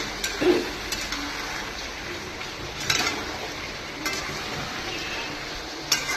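Chicken and spices are stir-fried in a pan in a home kitchen, with a faint, steady sizzle broken by the scrape and clink of a spatula against the metal every second or so, quiet and close.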